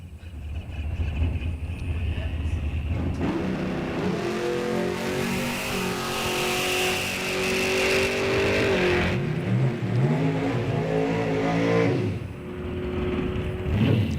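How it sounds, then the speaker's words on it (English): A drag racing car doing a wheel-stand exhibition at a drag strip test-and-tune session roars loudly, its engine revving and climbing in pitch, then dropping and surging again in a long, powerful run with no voices. "He's going to do another wheel stand exhibition for us."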